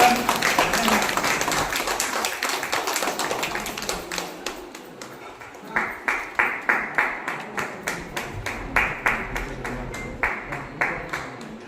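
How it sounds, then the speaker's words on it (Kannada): A crowd at an outdoor gathering supporting the Kannada language claps hard in unison, the steady rhythmic beats running through the whole stretch and growing sharper and more distinct partway through, with faint voices underneath. "ಎಲ್ಲರೂ ಜೋರ ಚಪ್ಪಾಳೆ ಹೊಡಿ"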